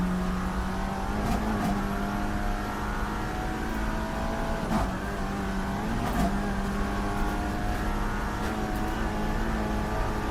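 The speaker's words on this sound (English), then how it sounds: "First SP9s are going through the start-finish line." SP9 GT race cars in an NLS series round thunder past the start-finish line, a steady engine roar with several sharper passes and tire noise as the cars go by one after another.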